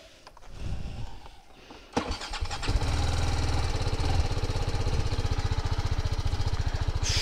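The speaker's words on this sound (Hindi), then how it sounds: "और ये रहा अपना बाइक" A motorcycle engine is started up nearby: a short cranking rumble, a sharp catch, then a loud steady idle putter running on alone.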